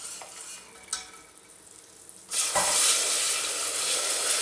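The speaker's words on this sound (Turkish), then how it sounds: "Şimdi üzerine soğuk sütü yavaş yavaş ilave edeceğim." Cold milk is poured slowly into a hot pan: after a quiet stretch with a couple of small knocks, a bright, loud sizzle erupts and keeps hissing steadily to the end.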